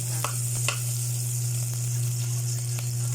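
Onions and garlic frying in a pan for pork sinigang, a steady close sizzle holding evenly throughout with a few light clicks of stirring on top.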